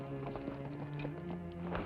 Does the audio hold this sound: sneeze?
no